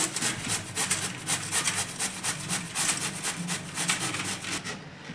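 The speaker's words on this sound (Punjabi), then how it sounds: "ਸਾਰੀ ਕੀਆ ਨੂੰ ਆਪਾਂ ਇਦਾਂ ਹੀ ਕੱਦੂਕਸ਼ ਕਰ ਲਵਾਂਗੇ" Bottle gourd (ghiya) rubbed against a box grater, a steady run of close, rhythmic rasping strokes that carries on without pause and with no talking.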